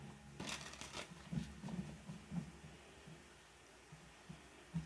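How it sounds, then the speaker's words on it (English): Tarot cards being shuffled by hand in a quiet room, a few soft riffling bursts near the start followed by faint, intermittent card taps and shuffles at low volume. "One more shuffle."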